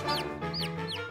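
A cartoon chicken clucking, three quick bright clucks in a fast rhythm, close and clear over a soft musical background with no talking.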